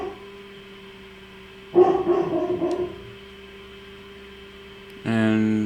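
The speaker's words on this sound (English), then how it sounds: "And the dogs are barking for no reason." Dogs bark in a burst of several overlapping woofs amid a Black Ops III campaign scene, riding over a steady mains-like hum, followed later by a separate harmonic tone.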